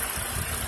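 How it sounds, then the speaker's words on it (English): The engine of a 2008 Ford Taurus runs steadily with a low, even idling rumble and a faint mechanical hum, heard up close with the hood open and no voices. "Here's your engine."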